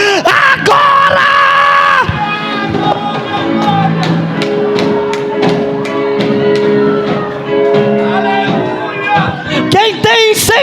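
Church congregation at a Portuguese-language evangelical service shouts and screams together, a loud sustained crowd roar with rising yells and whoops, voices overlapping throughout.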